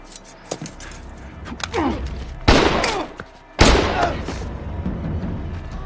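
Pistol shots ring out in an action film scene, with two loud, sharp blasts that cut in abruptly and decay into ringing, preceded by scuffling and softer impacts.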